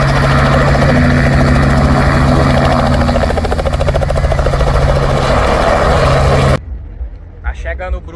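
A helicopter arrives at a beach, its loud close rotor chop and turbine whine running steadily for over six seconds before cutting off abruptly, followed by brief faint sounds.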